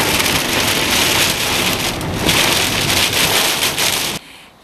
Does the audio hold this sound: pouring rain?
yes